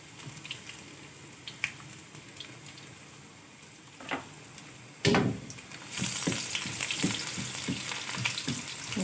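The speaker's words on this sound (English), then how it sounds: "the oil is heated up. So as the first thing, I'm going to throw in the garlic." Garlic hits heated oil with a sudden loud hiss partway through, then a bright steady sizzle and crackle with stirring taps, following quieter kitchen clatter before it.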